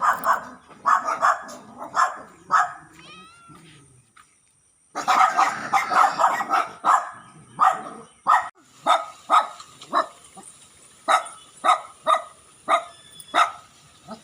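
Dogs bark repeatedly in short sharp yaps, fairly close, with a brief pause before a steady run of evenly spaced barks.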